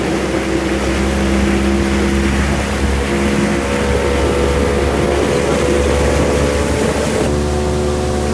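A loud 1992 two-stroke outboard boat engine runs steadily and close, a constant droning rattle with a slight shift in pitch near the end.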